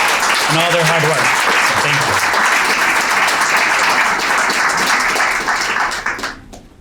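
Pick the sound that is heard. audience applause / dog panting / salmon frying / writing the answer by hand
audience applause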